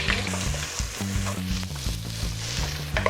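Beef sizzles in a hot pan for mapo tofu while a spatula scrapes and stirs repeatedly, with a low rhythmic humming tone underneath.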